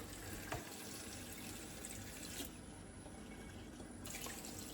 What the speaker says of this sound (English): watching me pour some water in